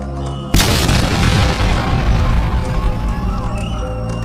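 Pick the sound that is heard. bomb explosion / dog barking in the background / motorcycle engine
bomb explosion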